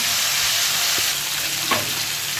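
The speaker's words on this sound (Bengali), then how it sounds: "এখন এই মাছগুলো সব ভেজে নেব।" Small fish fry in hot oil that was reused from frying pumpkin, giving a continuous loud, close sizzle with a couple of brief knocks as the pan is stirred. No voices are heard.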